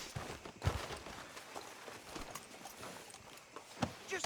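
Horse hooves clip-clop in Red Dead Redemption 2 as a horse walks through a southern town, irregular soft strikes at moderate distance over a quiet ambient background.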